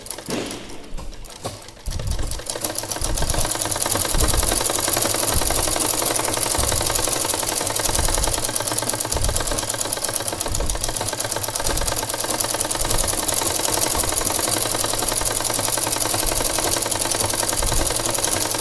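A sewing machine stitches the gathered waistband of a petticoat, running in a steady, close, continuous mechanical patter after a brief pause at the start, loud and alone with no talking.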